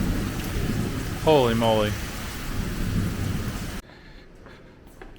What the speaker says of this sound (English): It's very windy up there, and the rains are coming down in buckets.